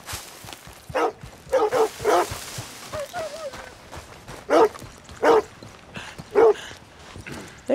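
Dog barking in the video game Red Dead Redemption 2: several loud, separate barks spread across the stretch with short pauses between them, plus a few whiny yips, heard fairly close with faint background game sound.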